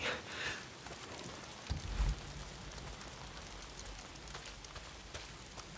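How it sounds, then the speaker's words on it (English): Steady rain falls in the post-apocalyptic mountain setting of the video game Days Gone, a dense broadband patter filling the whole stretch with a brief low thump partway through. "Damn rain. If it's not the freaks, it's the goddamn rain."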